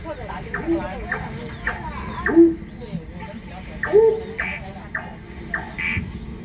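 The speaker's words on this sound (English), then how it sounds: "All set against a chorus of crickets." A steady chorus of crickets chirps through the night in a forest at Singapore's Night Safari, with occasional hoots and other calls rising over it, and a voice speaking softly.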